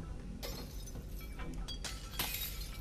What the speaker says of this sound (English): Oh, I can break the glass with my hand.